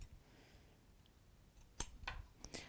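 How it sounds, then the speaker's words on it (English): Scissors snip out triangles at the corners of fabric while sewing a bag or cushion, a few faint, crisp cuts spaced apart in a quiet room. "you can use your scissors and just snip out some"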